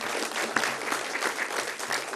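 An audience applauds a speaker, a dense, steady wash of many hands clapping in a hall for the whole stretch.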